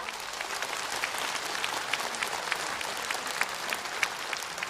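Audience applause in a concert hall at an art song evening at Seoul Arts Center, welcoming a guest to the stage; steady, moderately distant clapping with scattered sharper claps, no voices.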